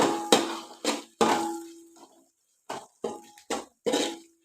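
A metal spoon clanks and scrapes against a pot while chicken biryani with a handful of mint is mixed, about eight sharp ringing clinks in an irregular rhythm, close and clear with short quiet gaps between strikes.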